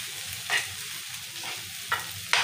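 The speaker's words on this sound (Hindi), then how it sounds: "बस इसमें अब हम बॉईल किए हुए आलू डाल देते हैं। देखिए इसको मैश कर लेंगे अच्छी तरीके से" Boiled potatoes being mashed in a pan, with soft squelching and a few sharp scraping clicks against the metal at intervals, close up and fairly quiet, with no talking.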